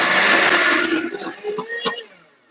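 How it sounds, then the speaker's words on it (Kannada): A mixer grinder grinds soaked grain batter for habbe vade, a loud close whirring roar for about a second that then winds down into fainter rattling bumps and clinks before fading out. "ಇವಾಗ ಮಿಕ್ಸಿ ಮಾಡ್ತಾ ಇದ್ದಾರೆ."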